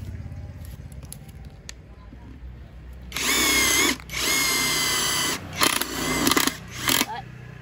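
A Hukan cordless power driver drives a screw after a quiet start. Its loud, high whine runs for about a second, pauses briefly, runs again, then ends in a few short, stuttering bursts close by.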